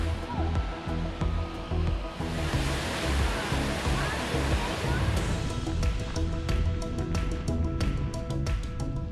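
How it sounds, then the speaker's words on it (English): A big waterfall in Iceland in summer roars as a steady, loud broadband rush of falling water, close and continuous throughout. "Big waterfall."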